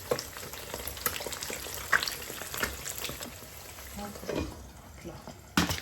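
Turkish omelette with sucuk sizzles in olive oil in a frying pan, a constant crackling fry with occasional clinks and a splash of liquid near the end, a voice now and then underneath.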